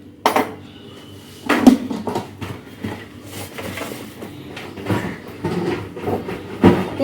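Green chillies ground in a traditional stone mortar, giving repeated hard knocks and scraping grinds of stone on stone at close range, with no talking.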